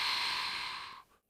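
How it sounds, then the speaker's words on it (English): A long, forceful breath out during a core-strength exercise for lower back pain, close and steady for about a second before fading to silence. "We exhale."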